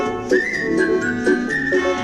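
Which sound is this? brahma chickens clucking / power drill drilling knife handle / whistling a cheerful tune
whistling a cheerful tune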